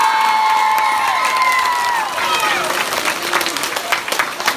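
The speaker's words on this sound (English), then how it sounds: "Everybody clap for it!" Applause and cheering for a teacher at a school gathering, a lively burst of clapping with children shouting and excited voices over it, loud and close, tapering into scattered claps.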